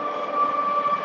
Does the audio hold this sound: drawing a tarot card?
no